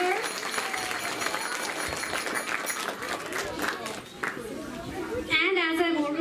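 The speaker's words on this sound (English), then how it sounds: "Let's put up a round of applause for her." Applause at an annual day celebration at a Vedic academy in Calgary, dense clapping and crowd chatter throughout, with a voice speaking over the end.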